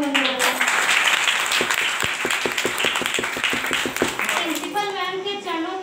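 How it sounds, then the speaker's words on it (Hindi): An audience at a girls' school farewell ceremony claps steadily through the moment, with a rapid burst of sharp individual claps midway, while a speaker talks over a loudspeaker. "एक बार जोरदार तालियां बजा दें क्योंकि अब ज्योति का कार्यक्रम शुरू होने वाला है।"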